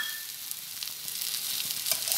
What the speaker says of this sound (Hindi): अब हम इसमें अभी जो है वो जो हमने हरा धनिया काट रखा था वो डाल लेते